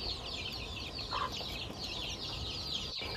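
A hen leading her chicks on a chicken farm, with soft repeated clucking and chick peeps over steady outdoor background noise, fairly close.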